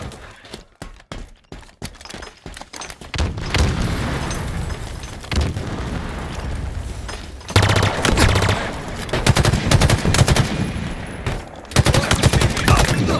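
Gunfire in a Halo Team Slayer match, with rapid bursts of automatic rifle fire and heavy booming blasts, dense and loud throughout, sharp separate shots at the start.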